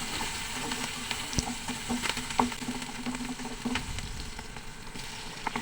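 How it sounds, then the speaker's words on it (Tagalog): Onion and then garlic sautéing in a pan for kare-kare, a steady close sizzle with scattered crackles and pops and occasional stirring clicks, no voices. "Unahin po natin ang ating sibuyas sa pagigisa at susunod natin ang bawang hanggang sa mag-golden brown"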